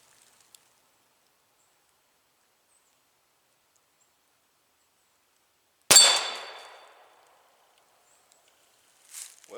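A single sharp crack from a vest pocket pistol fired at a bottle target about six feet away, ringing briefly after long silence, followed by a faint rustle near the end.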